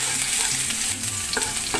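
Garlic sizzling as it is sautéed in a pan for chicken caldereta, steady frying hiss with a few scraping stirs of a utensil, close and alone.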